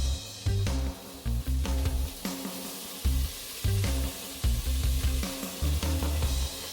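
Garlic and ginger sizzle in a hot pan for Jamaican rice and peas, the frying hiss rising and falling in stirring bursts with short pauses, close and fairly quiet.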